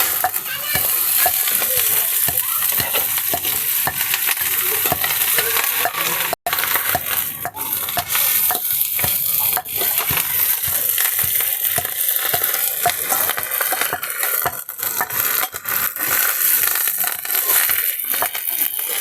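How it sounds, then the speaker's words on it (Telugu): Panagataku leaves fry in hot oil, giving a loud, dense, continuous crackling sizzle that stays close and steady throughout, with brief sharper pops and no voices. "పనగటాకు మటుకు భలే యాగుతున్నది నూనెలో"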